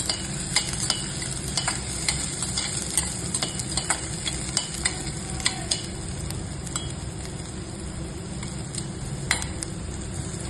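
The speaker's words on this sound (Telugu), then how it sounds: "స్టవ్ మీద కడాయి పెట్టి ఆనియన్స్, పచ్చిమిర్చి, కొద్దిగా అలా ఫ్రై చేయాలండి" Onions and green chillies frying in oil in a kadai, a continuous crackling sizzle with frequent sharp taps and scrapes of a spatula against the metal, close and steady, with no voices.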